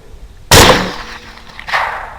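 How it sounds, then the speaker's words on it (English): A single loud close gunshot cracks out while hunting running hogs, followed by a decaying echo and a second fainter report or echo. "The hogs are now running into Ben's view, and he's shooting"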